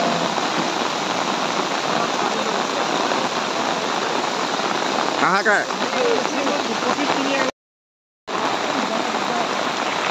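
Heavy monsoon rain falling steadily over flooded paddy fields, a loud continuous wash of noise with a brief spoken word over it midway and a short gap near the end.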